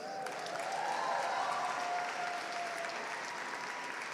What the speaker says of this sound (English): Give yourselves a bigger round of applause.